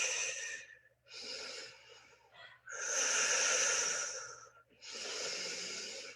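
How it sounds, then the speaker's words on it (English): Deep, audible breaths during a yoga class, four long exhales and inhales with short gaps between them, close and forceful, with no talking. "Let's do 2 more breaths."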